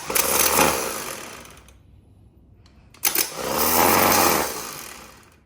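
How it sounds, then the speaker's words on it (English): A starter motor from a 1991 GMC Sierra tested on the bench, whirring loudly in two separate bursts of spinning with a short silent pause between them. "that's how you test your starter at home"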